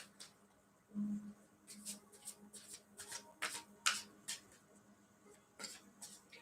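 Tarot cards being shuffled by hand, a run of crisp riffling flicks and soft taps in close, quiet irregular bursts.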